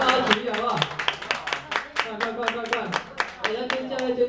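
An audience claps for a singer who also plays guitar, a run of sharp, fairly regular hand claps close by, with people talking over them.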